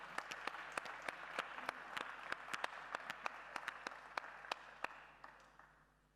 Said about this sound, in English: please again, give them a big hand of applause